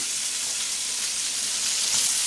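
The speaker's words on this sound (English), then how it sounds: "You can hear that skillet is good and hot." Onions and peppers sizzle in a hot skillet, a dense, continuous hiss that stays loud and even throughout, close up with no speech.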